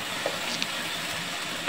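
Chopped cucumber hitting a hot frying pan while cooking tongkan with peanuts gives a steady, moderate sizzle with a few soft stirring clicks near the end.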